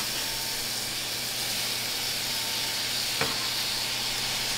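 Steady, even sizzling hiss from a hot pan as pears cook, with a brief sharp clink partway through and no talking.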